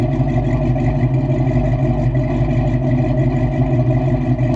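A Ford Foxbody Mustang's engine idles steadily nearby, a smooth, even low rumble with a faint rhythmic pulse and no revving.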